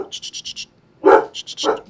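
A dog gives two sharp, loud barks close by, interspersed with quick rhythmic panting-like bursts.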